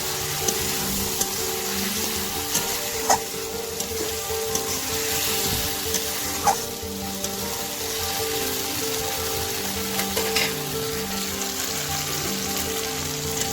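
Fried eggs being stirred into egg curry masala in a pan, a steady close sizzle of frying with faint scraping strokes and occasional sharp clicks of a utensil against the pan.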